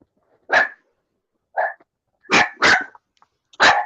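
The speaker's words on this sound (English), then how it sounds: "Bloody dog." A dog barks loudly and close by at night, a few sharp, separated barks followed by a quick double bark and one more, with silence between them.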